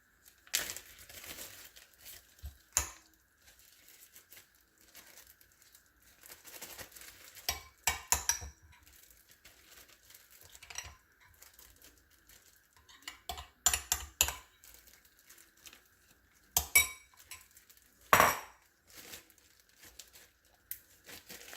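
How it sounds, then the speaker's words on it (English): Cream cheese filling mixed with chives and spices is spooned into a Ziploc bag, giving scattered plastic crinkles and soft spoon taps in short bursts with quiet gaps between them and no talking. "now we're just going to add all of this to a little Ziploc baggie"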